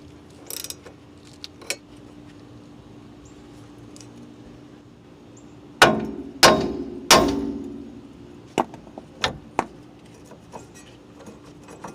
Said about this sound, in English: hit what it goes through with the hammer to shock it loose